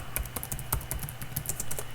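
Quick keystrokes on a computer keyboard as a mkdir command is typed, a run of sharp, irregular clicks in rapid succession, close and clear with no talking over them.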